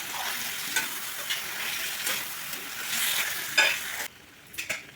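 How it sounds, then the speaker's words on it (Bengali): Whisked sour yogurt is stirred into a dhaniya chicken curry in a hot pan, giving a continuous sizzle with a few scrapes and clinks from the spoon. The sizzle drops off sharply near the end. No one speaks. "এবার দিয়ে দেবো এর মধ্যে ফেটিয়ে রাখা টক দই, ভালো করে মিশিয়ে নেব সব কিছু"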